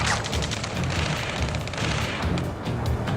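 Dense gunfire and booming explosions in the video game Ace Combat 7, a continuous loud barrage of rapid overlapping shots and blasts with no talk.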